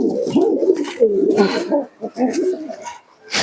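Giribaj pigeons coo loudly and close by, a run of low, throaty, rolling calls with brief pauses between them.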